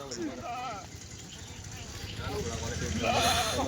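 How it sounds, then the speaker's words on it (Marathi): Kathiawari goats bleating in a vehicle loaded with them: wavering, nasal bleats near the start and again at the end, mixed with people talking and a steady background rumble. "नवीन काठेवाडी शेळीची गाडी"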